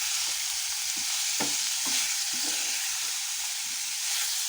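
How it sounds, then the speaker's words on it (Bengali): Meat fries with onion, ginger and garlic in a pan, a continuous close hiss of sizzling oil broken by several soft knocks and scrapes of stirring, with no talking. "এই পেঁয়াজ, আদা, রসুন আর পেঁয়াজের সাথে আমি মাংসটা ভাজবো"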